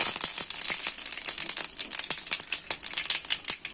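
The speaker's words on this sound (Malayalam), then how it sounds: "നല്ലപോലെ കടുക് പൊട്ടിയിട്ട്" Mustard seeds spluttering in hot coconut oil, with curry leaves added, give a dense run of sharp, irregular pops and crackles over a steady sizzle. They sound close and fairly loud, with no voice.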